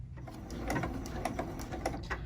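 A domestic sewing machine stitches through quilt binding, then stops and back stitches near the edge, giving a steady mechanical whir with faint rhythmic ticks close by and no talking.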